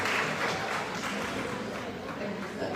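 Brief audience applause at a conference, soft, steady clapping from a seated crowd lasting a few seconds at an even level.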